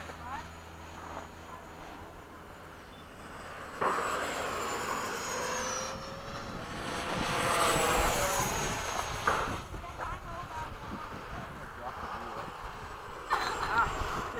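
Two E-flite 80mm F/A-18D electric ducted-fan model jets fly past in formation, their whooshing turbine whine rising and fading as they pass, with people talking throughout.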